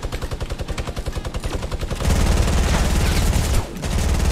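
Rapid P90 submachine gun fire in Fortnite Battle Royale, a steady stream of close, loud shots that swells into a denser, heavier volley of gunfire midway.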